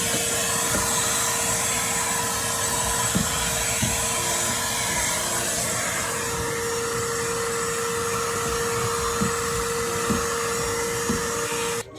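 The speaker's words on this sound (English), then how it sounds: "So let's go ahead and hit it with the vacuum now." A vacuum cleaner runs steadily over the carpeted floor of a Chevrolet Silverado pickup's interior, a loud continuous motor whine and airflow roar with small bumps and knocks as the nozzle passes, lasting throughout.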